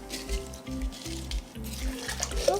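Frozen lemonade concentrate poured into a fruity punch with sugar, a close liquid glugging and splashing in rhythmic pulses, with music playing underneath.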